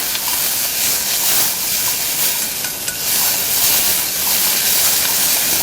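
Celery and other vegetables sautéing in a pan for a brown gravy sauce, a steady, dense sizzle and hiss that runs without a break, close and fairly loud.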